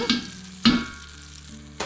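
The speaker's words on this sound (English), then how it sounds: "Put a good chunk of butter in. Gonna get it melting." Butter melting and sizzling in a pan while cooking, heard as a soft, steady frying hiss broken by a few sharp clattering stirs near the mic.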